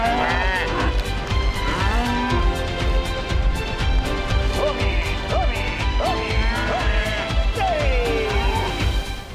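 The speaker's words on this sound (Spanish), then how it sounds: "Fijaos cómo con la comida vienen todas las becerras, las vacas y los becerritos" Cattle, cows with their young calves, low over a steady engine rumble as a herd follows a car bringing food; several overlapping moos come and go throughout.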